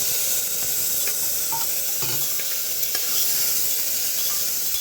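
Chicken pieces with onions fry in a pan, giving a dense, loud, continuous hiss and sizzle with faint scraping stirs underneath. No one speaks.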